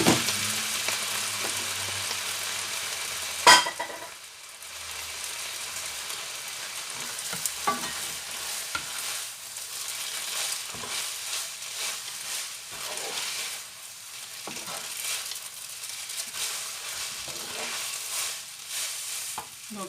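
Cooked spaghetti hits a hot pan with a sharp clank and then fries with a soft, steady hiss and occasional crackles that rise and fall at moderate volume.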